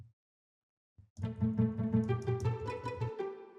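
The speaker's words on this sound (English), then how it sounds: "It sounds like a plucky type of string." Pizzicato strings, plucked and short, playing a quick rhythmic run of bouncy notes for about two seconds after a couple of brief isolated plucks, clean and alone.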